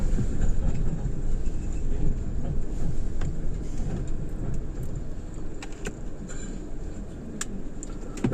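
Steady station ambience at Pescara railway station in Italy: a continuous low rumble of trains and traffic with scattered faint clicks and clatter, no voices in the foreground.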